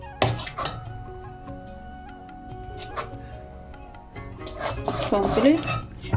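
Onions are stirred continuously in a cooking pot, with a metal spoon clinking and scraping against the pot in irregular strokes, growing busier and louder toward the end.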